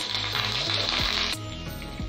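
Oil sizzles loudly and continuously in a pan for a tempering, the frying hiss briefly dropping as asafoetida and curry leaves are stirred in.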